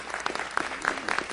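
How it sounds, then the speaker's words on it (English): A city council chamber gives a round of applause for Mrs. Nevada, heard as a short burst of scattered clapping from a modest crowd at moderate distance. "let's give her a round of applause"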